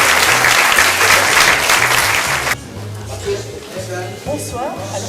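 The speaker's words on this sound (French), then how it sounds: "on peut encore l'applaudir, et les jeunes notamment" Audience applause at an awards ceremony honouring volunteers and athletes, a dense loud burst of many hands for about two and a half seconds that cuts off abruptly, followed by quieter room noise with a few scattered claps and murmurs.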